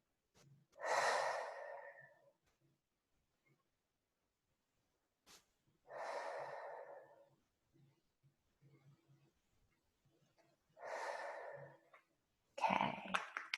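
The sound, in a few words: slow deep breathing during a guided exercise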